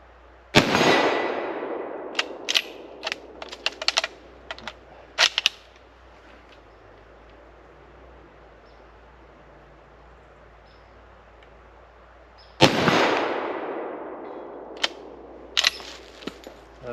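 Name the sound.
No.4 Mk1 Lee Enfield .303 rifle shots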